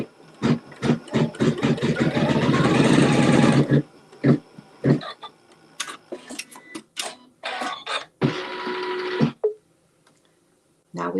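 A sewing machine runs in a rapid, even burst of a few seconds while stitching a quilt seam, followed by scattered softer clicks and handling noises, with a voice talking at times.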